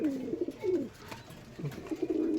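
Giribaz pigeons from Rajshahi coo inside a cage, several low, rolling coos following one another close by, with no talk.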